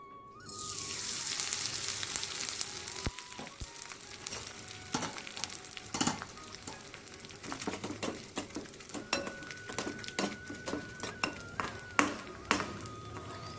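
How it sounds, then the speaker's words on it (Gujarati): Edible gum (gond) dropped into hot ghee in a kadai sizzles and crackles close by, with repeated spoon clinks and scrapes against the pan breaking up the frying. "ઘી ગરમ થઈ ગયું છે હવે આપણે એમાં ગુંદર નાખીશું"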